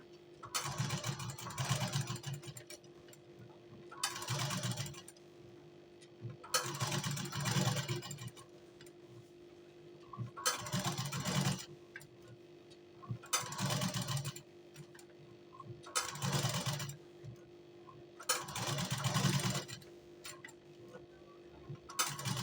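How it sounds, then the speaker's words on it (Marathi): Sewing machine stitching a blouse sleeve shape onto lining fabric, quiet bursts of rapid whirring stitches roughly every two to three seconds, separated by short pauses over a faint steady hum. "मी इथे तुम्हाला शिलाई मारून दाखवलेलं आहे"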